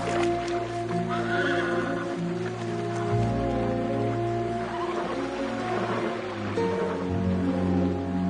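A horse whinnies and its hooves clip-clop steadily in a Mexican revolution-era setting, with a loud, continuous bed of ambient noise and light rain-like patter behind it.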